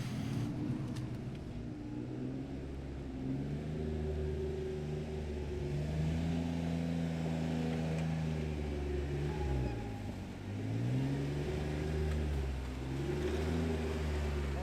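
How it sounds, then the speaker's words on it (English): An off-road truck on 315 tires works through an off-camber mud hole, its engine revving and labouring in rising and falling surges, close and steady with no talk. "that was the most extreme off-camber wheeling I've done in this thing since the rebuild"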